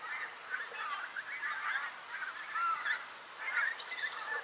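Geese honking in autumn as they fly off, a steady run of overlapping calls carrying at moderate distance, with a brief higher call near the end.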